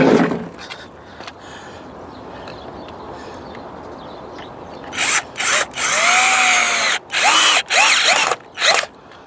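A power drill bites into wood while a fence is built outdoors. After a quiet stretch with faint birds, several short, loud whining bursts come close together in the second half.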